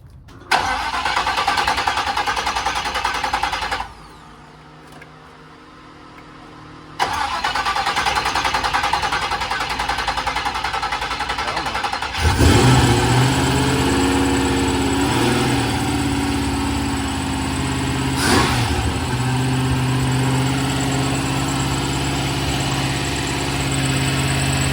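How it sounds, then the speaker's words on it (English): A dirt bike that sat unused for about three years fires up after a battery change, its engine catching and then revving in loud rising and falling bursts close by. "first startup, we just helped Cookie Money change out his battery"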